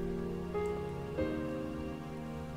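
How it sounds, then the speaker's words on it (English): Rain taps on the skylight glass of a room in the game Cognition: An Erica Reed Thriller, a soft, steady patter under gentle sustained musical tones. "The sound of the rain tapping on the glass fills the whole room."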